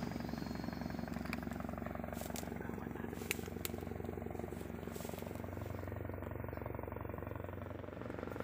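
A Bell 412 helicopter is filmed during fighting in West Papua, its rotor producing a steady rapid thudding pulse with engine drone, moderately distant, with a few sharp cracks and some background voices.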